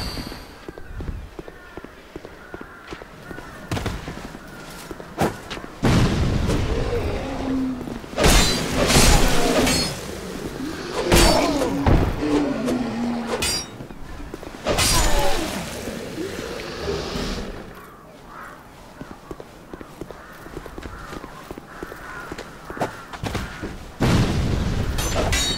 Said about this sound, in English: Again, whoever's still shooting at me.